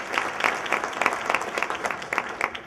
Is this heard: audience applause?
yes